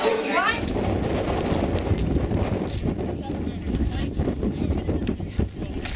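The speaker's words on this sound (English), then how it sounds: "It's really windy out here." Strong, chilly wind at the LIGO Hanford observatory buffets the microphone in a continuous loud rush, with a brief voice near the start and faint movement sounds underneath.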